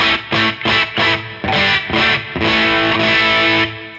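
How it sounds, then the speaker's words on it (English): Instrument through an amp's clean channel set just at the edge of breakup, with a Bassman-style cab impulse response, playing a loud close phrase of short notes before a longer sustained chord rings out alone. "So the clean channel of the amp is sort of set to a just about to break up tone."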